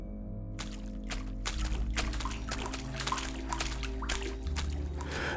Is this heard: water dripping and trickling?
yes